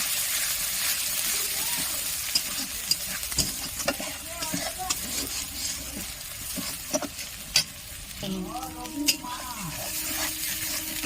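Masala with Kashmiri chili powder is stir-fried for an aloo soybean curry, a continuous close sizzle broken by repeated spatula scrapes and clacks against the pan, with a voice briefly heard near the end.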